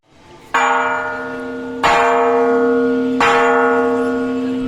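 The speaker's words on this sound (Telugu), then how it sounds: "ఇప్పుడు స్వర్ణగిరిలో ఉన్న గంట అతిపెద్ద గంటలలో 2వ స్థానంలో ఉంది." A large temple bell at Swarnagiri Venkateswara temple is struck three times at an even pace, each loud ringing strike layered with bright overtones and a long sustained hum that carries into the next.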